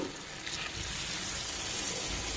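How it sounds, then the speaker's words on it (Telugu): Water is poured into a pot of yam and tamarind stew, a soft continuous splashing hiss that stays quiet and even throughout, with no talking. "ఇప్పుడు దీనిలో మనము కావలసినంత వాటర్ వేసుకుందాం"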